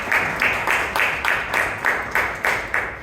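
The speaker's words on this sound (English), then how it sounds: "Please give a big round of applause." At a Toastmasters club meeting in Bangalore, a few hands clap in a steady, evenly spaced rhythm of about three claps per second, loud and close, with no talking over it.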